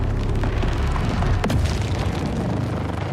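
Artillery bombardment explosions in the video game Total War Warhammer 40k roll together into a loud, continuous low rumble, with one sharper blast standing out near the middle.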